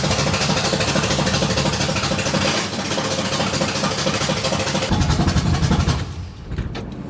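A 1973 big block car engine with a troublesome carburetor cranks and runs roughly in a continuous loud rumble, then cuts out and sputters near the end; no talking.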